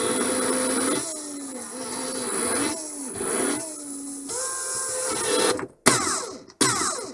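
Ryobi R18PD5 brushless drill/driver whirring close by in several bursts, the motor pitch rising and dipping as speed changes, ending with abrupt stops and restarts.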